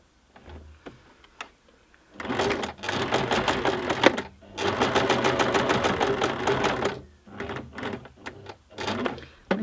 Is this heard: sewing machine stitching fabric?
yes